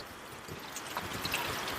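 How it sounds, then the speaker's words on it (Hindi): Rain falls steadily on a mountain road in Nepal, a soft continuous patter and trickle of water at low level with no voices. "हम लोग बारिश में फंस गए हैं।"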